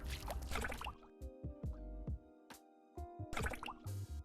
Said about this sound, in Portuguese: E aí tá fazendo barulhinho de nadando.